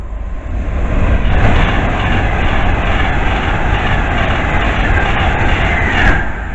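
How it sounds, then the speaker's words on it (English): An Avanti West Coast Class 390 Pendolino train rushes past close by at Cheddington station, a loud steady roar with rhythmic wheel clatter lasting several seconds. "it's an Avanti West Coast Class 390 Pendolino"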